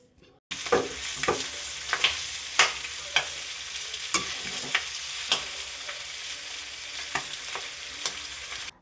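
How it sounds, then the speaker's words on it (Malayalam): Pork with pepper being stirred and fried in a pan: a continuous close sizzle punctuated by regular scraping strokes of a spoon against the pan, roughly one per second. "ഇനി നമുക്ക് എല്ലാം കൂടെ നന്നായിട്ട് ഒന്നും കൂടെ മിക്സ് ചെയ്ത് കൊടുക്കാം"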